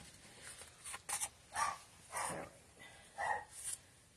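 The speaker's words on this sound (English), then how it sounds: "my dog is up there barking up a storm." A dog barks somewhat off at a distance in a house, about five or six separate sharp barks in an uneven rhythm with short gaps of quiet between them.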